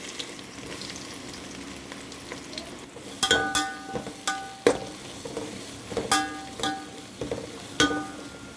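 Onions frying in oil with cinnamon, cardamom, cloves and bay leaves for tomato rice, a steady low sizzle broken by several sharp stirring clinks and scrapes of a spoon against the pan, fairly close, with no talk.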